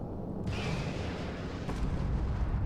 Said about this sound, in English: I just want to shoot a missile at this rock here